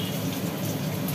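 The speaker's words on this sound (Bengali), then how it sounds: "আলু পেঁয়াজ একসাথে ভাজা হবে।" Potatoes and onions fry together in hot oil, a dense, steady sizzle with fine crackling that continues evenly and fairly loud for the whole short moment.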